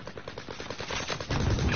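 Rapid automatic gunfire from a PS4 shooter video game, bursts rattling steadily throughout and growing louder and denser in the final half second.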